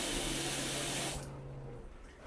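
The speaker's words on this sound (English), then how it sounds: "Theoretically, when I go turn the bathroom faucet on, the pump will turn on" Water runs from a bathroom faucet supplied by a DIY filtration pump on a floating home, a steady rushing stream with a low pump hum that cuts off partway, leaving quieter trickling.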